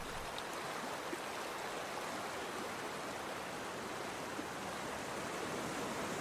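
Torrential floodwater pouring down a river after heavy storm rain, a steady dense roar of rushing water with no pauses, fairly close and uniform throughout.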